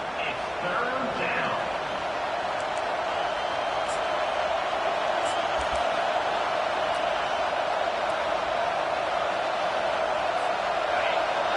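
Stadium crowd in the video game NCAA 25 football roars as a dense, steady wash of noise filling the whole stretch, loud and sustained, with faint scattered voices and a brief low thump mid-way.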